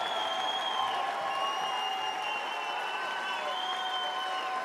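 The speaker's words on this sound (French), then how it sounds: "Un tonnerre d'applaudissements" Audience applause at a Roland-Garros 2025 tribute ceremony for tennis player Nicolas Mahut, a steady wash of crowd clapping heard throughout at a constant level, with faint tonal hum or whistle running underneath.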